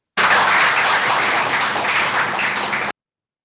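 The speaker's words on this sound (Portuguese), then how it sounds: "salva de palmas para Deus" Applause from a church congregation at a Sunday morning service, a loud, dense round of clapping that starts abruptly, holds steady for under three seconds and then cuts off sharply.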